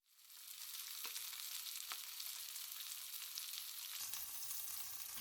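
Lettuce-wrapped pork slices sear in a hot pan, giving a loud, steady sizzle and crackle with a few sharper pops, unbroken from start to finish.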